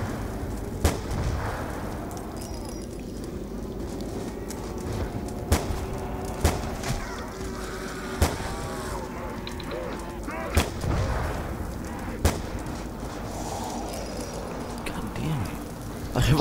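Revolver shots in Call of Duty: Black Ops 2 Zombies mode, sharp loud cracks spaced irregularly, about eight across the stretch, over a constant game background drone with faint effects and occasional speech.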